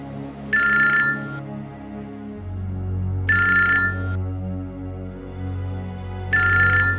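A telephone bell rings in three loud, evenly spaced bursts, each about a second long, over low background music with no voices.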